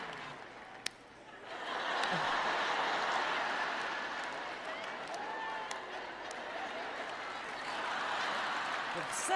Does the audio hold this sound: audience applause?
yes